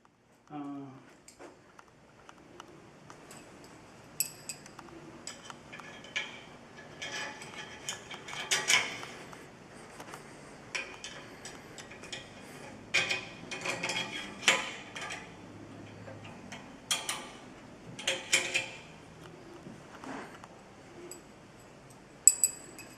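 Metal bolts being started by hand on a Hurricane Vector wind turbine, a 12-volt unit under assembly, giving scattered small clinks and ticks of hardware at close range, with occasional talk in between.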